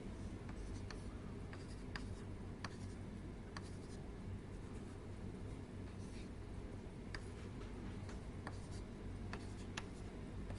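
Marker or chalk writing on a board during a digital electronics lecture, a series of short scratchy strokes scattered across a constant room hum.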